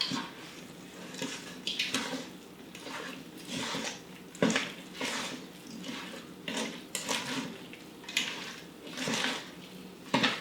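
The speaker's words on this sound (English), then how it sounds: "we just need to mix it together and make an awesome batter" Vegan blueberry muffin batter is stirred in a bowl, a spoon scraping and clinking against the sides in a steady, uneven rhythm of soft knocks and swishes, close by with no talking.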